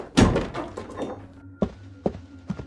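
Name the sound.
room door being shut and locked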